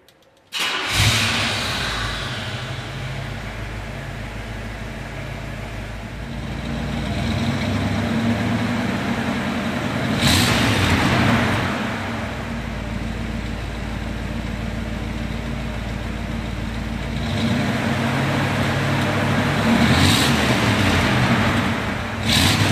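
A 1950 Cadillac Series 61 V8, fitted with red Taylor high-performance plug wires and an electric fan, runs steadily close by. The engine holds a throaty idle that swells twice into brief revs, with no talk.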